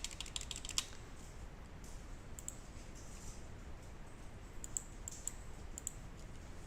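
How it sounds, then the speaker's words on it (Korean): Faint, quick keystrokes on a computer keyboard tap out text in a quiet room, arriving in small irregular clusters of light clicks. "T를 눌러서 원하는 글자를 입력할게요"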